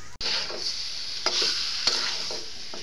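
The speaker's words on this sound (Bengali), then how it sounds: "মাংসটা আমরা একটু কষে নিয়েছি" Chicken for a jackfruit curry stir-fried in a pan, a soft steady sizzle broken by a few sharp scrapes of a spatula.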